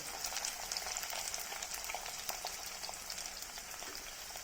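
Garlic and ginger for a fish curry stirred in a hot pan, giving a faint, even frying hiss with light crackles and no voices.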